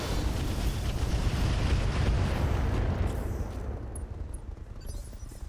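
A mech in RogueTech firing all its weapons at once, a dense, roaring wall of blasts and rumble that holds steady for several seconds before slowly fading.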